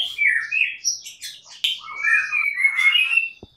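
A songbird at a bird market gives bright, close chirps and tweets in quick, uneven bursts, with a few short squawks and no talking.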